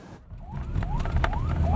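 Ambulance siren wailing in rising sweeps on a Jakarta street, repeating steadily and growing louder over a low rumble of traffic, recorded by a crew member inside the vehicle.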